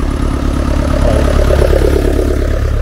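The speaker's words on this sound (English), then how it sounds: "That's an old grey Massey." An old grey Massey Ferguson tractor at a charity tractor rally near Blarney Castle, Ireland, runs with a steady, loud, low engine drone and a slight clatter, with no speech.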